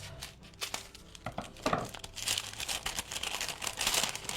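Scissors cut straight across folded parchment paper, giving close, crisp crinkling and snipping that builds into a denser rustle toward the end, with no talking.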